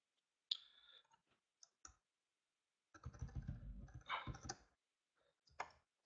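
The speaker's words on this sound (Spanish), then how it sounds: "Aquí nosotros vamos a ir tecleando nuestro código" Keystrokes on a computer keyboard as COBOL code is typed: a few isolated clicks, then a dense burst of rapid typing, then a few final taps, all fairly close with no talk.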